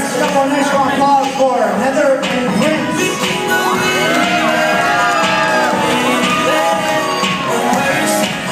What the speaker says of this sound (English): Nice round of applause for Mirasol and John.